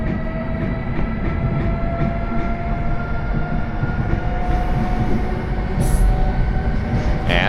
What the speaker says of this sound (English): Right now, it's departure time and we're off, slipping out of Wschodnia and diving straight into our almost 6-hour trip.